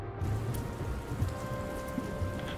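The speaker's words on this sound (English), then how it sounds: "Light rain is okay. It doesn't do much to us." Light rain in the video game Dustland Delivery, a steady soft hiss of drops pattering on a surface with a faint low hum underneath, continuous and even throughout.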